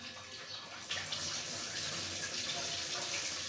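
Tap water runs steadily into a sink while cut onion is washed, a close, constant splashing hiss with a brief surge near the start and no talking.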